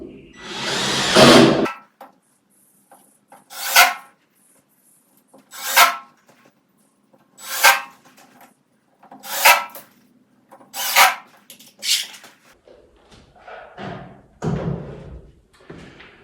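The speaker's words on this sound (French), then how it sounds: "Maintenant, je peux commencer à visser tout le long." A drill drives screws one after another along the hinge side of a secondary glazing window frame, about six short whirring bursts spaced evenly, close and loud, with a few clunks of handling near the end.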